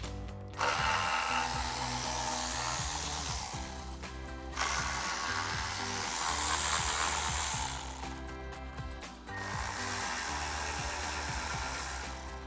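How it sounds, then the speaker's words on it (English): A ratchet with a 7mm socket works screws free from the electronic front diffuser on a Ford F-150, giving a close, continuous run of fast clicking broken by short pauses. "We're going to be using a 7mm socket and a ratchet."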